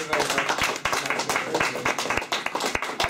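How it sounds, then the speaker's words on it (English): An audience claps at a TMA Fight Series weigh-in event. The claps are loud, close and irregular, with sharp individual hand claps standing out across a short burst, and a faint voice can be heard in the background. "I think we all should give him a good clap for what he's done"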